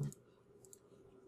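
A computer mouse clicks once sharply at the very start, then faint ticks follow over quiet room tone.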